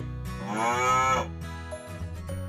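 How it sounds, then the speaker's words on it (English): Nearby cow lets out a strong moo that peaks early, followed by quieter low grunting tones, heard alone with no speech. "A cow might live here."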